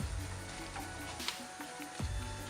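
Ginger pieces fry in hot oil with a quiet, even sizzle, punctuated by a couple of brief stirring scrapes.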